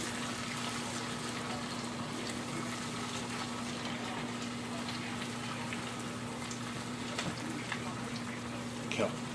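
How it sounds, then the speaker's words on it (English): Chicken croquettes deep frying in a pan of hot oil, a steady fizzing hiss throughout with a faint electrical hum beneath and occasional louder pops. "what you're gonna do is deep fry these until they're golden brown"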